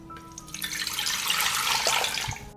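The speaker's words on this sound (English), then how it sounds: "I pour 1 liter of water into the pot." Water pours into a cooking pot, a liter filling in one continuous splashing stream that builds and steadies over a couple of seconds, close and alone.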